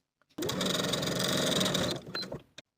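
A sewing machine top-stitches a dress tie's belt opening closed in one steady, close run of rapid stitching lasting under two seconds, followed by a few brief clicks as it stops.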